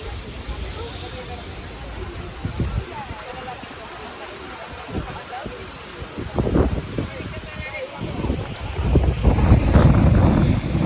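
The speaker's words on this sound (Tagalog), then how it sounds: "Ang hangin." Gusty wind in Menton, France buffets the microphone in rumbling bursts that grow stronger toward the end, with voices faintly heard underneath.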